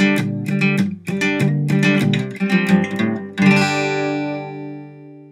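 Acoustic guitar playing a passage from a song with hammer-ons and quick picked notes, ending on a ringing chord that fades out, heard alone and up close.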